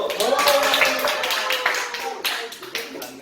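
A Korean church group claps in a short, uneven run of hand claps that tapers to a few isolated slaps, mixed with voices speaking in the room.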